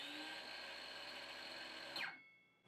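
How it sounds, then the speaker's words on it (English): A brushed Hyper Tough cordless circular saw running at full speed with a steady high motor whine, then braking hard so the pitch sweeps sharply down and stops within a fraction of a second, heard close and alone. "It's actually a really fast brake on this brushed Hyper Tough saw."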